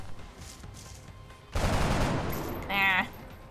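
A single loud burst of rifle gunfire rings out in XCOM: Enemy Unknown, an abrupt blast with a long crackling tail and a bright whining effect near its end, following quiet background game ambience.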